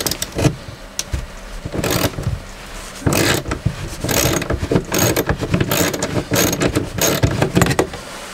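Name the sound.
ratchet with 3/8 inch socket turning nuts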